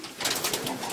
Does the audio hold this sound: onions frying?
no